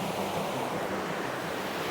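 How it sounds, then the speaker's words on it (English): Wind buffets the microphone on the Kiso Ohashi, a big bridge over the river in Japan's Kiso valley, as a steady, loud, rushing roar with low rumble throughout and no talking. "The only drawback of this bridge is it's a bit windy, which is not good for the audio."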